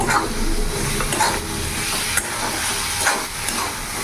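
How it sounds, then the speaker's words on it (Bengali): Fried potatoes added to a pan of sizzling cooked-down masala for egg curry and stirred: a loud, steady hiss of frying with soft scraping stirs running throughout. "এরই মধ্যে ভেজে রাখা আলুগুলো আমি এখন দিয়ে দেবো।"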